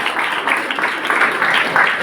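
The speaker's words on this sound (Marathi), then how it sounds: "त्यासाठी तुमच्या सगळ्यांचे मी सगळ्यांनी टाळ्या वाजवून अभिनंदन." Students at a school guidance session applaud together, a dense, even wash of many hands clapping at fairly close range, sustained without break and without any talk over it.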